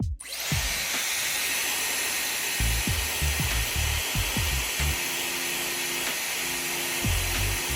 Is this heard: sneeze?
no